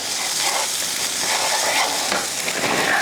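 Coleslaw mix sizzling in melted butter in a hot pan, a steady, dense, close frying hiss with crackling texture throughout, no voices.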